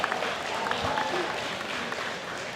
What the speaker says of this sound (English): I think we should have a round of applause for our amazing MCs tonight